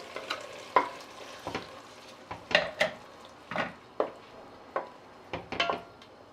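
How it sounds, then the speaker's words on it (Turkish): Peppers being sautéed in a pan for a breakfast sauce, with repeated short scraping stirs of a utensil against the pan over a faint sizzle, close and moderately loud, no talking. "Biberleri de biraz kavuracağım."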